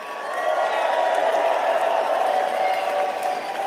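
A crowd at a political rally in Edmonton cheers and applauds steadily in a dense, continuous roar of clapping and voices that holds at a constant level throughout.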